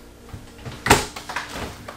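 A four-door residential-style fridge in a 2022 Heartland Milestone 326RL fifth-wheel RV gives a sharp door thump, followed by a few softer knocks and rattles from the door and cabinet. The sounds are close and there is no talk.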